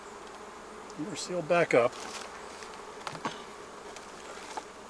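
Honey bees buzzing around a hive being fed for winter in the fall, a steady soft drone throughout with a few closer buzzing passes, while a person speaks briefly.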